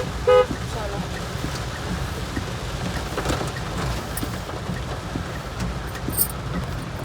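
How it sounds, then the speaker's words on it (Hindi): Heavy rain pours onto a flooded city road near a crossing, a steady dense hiss with passing traffic and a short horn toot near the start, while a person speaks faintly underneath. "इतनी तेज़ बारिश हो रही है"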